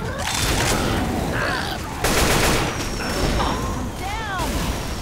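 Explosions in Left 4 Dead 2 crackle and boom in a dense, continuous barrage of gunfire-like bursts, loud and close throughout, with a sharp surge partway through.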